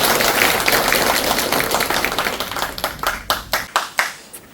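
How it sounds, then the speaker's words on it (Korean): Audience applause at a residents' general assembly in Dongi-myeon, Okcheon County: a dense, close wash of clapping that thins toward the end into a few scattered, separate claps. "큰 박수 부탁드리겠습니다."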